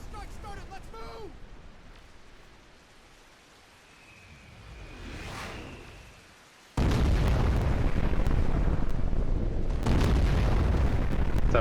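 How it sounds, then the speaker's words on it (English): Airstrike explosions in a video game: a sudden, loud, sustained rumbling blast that cuts in mid-clip after quieter game ambience, with a voice heard briefly at the start. "Airstrike started, let's move!"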